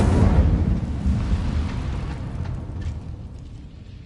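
A fiery Incendio spell blast from Hogwarts Legacy on PS5 bursts out as a loud, roaring whoosh, then rumbles on and slowly fades over a few seconds, with no voices over it.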